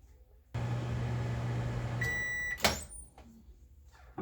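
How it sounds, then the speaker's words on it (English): A microwave oven hums steadily while heating a bowl of chocolate ganache, then beeps and a door clunks open, followed by quieter clatter in the room. "I'm going to put it back in the microwave as is for another 20 seconds"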